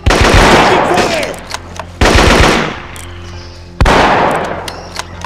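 Heavy gunfire in the PC shooter Marine Sharpshooter 2 arrives as three loud, close bursts of rapid shots, each fading into a rumbling echo before the next begins.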